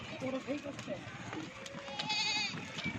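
Goats and sheep in a farm pen of about thirty bucks and does bleat in several short calls over constant talking voices.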